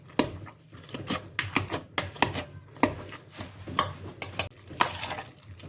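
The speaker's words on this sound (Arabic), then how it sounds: "هقلب بقى الزبده دي فيها كويس عشان بس تسيح معاها" A spoon stirs butter and vanilla into soft mashed boiled sweet potatoes in a bowl, giving close, repeated scraping and squelching strokes in an uneven rhythm, with no talking.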